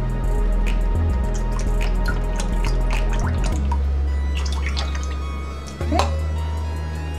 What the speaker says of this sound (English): I'm gonna add 2 cups of my almond milk to a bowl